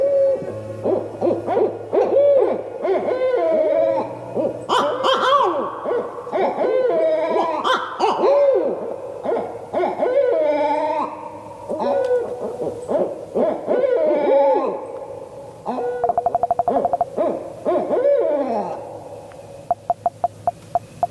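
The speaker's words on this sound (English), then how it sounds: "hearing barred owls" Barred owls hooting territorial calls, a loud, close series of rhythmic hoots and rising and falling calls from more than one bird, trading phrases back and forth for about twenty seconds.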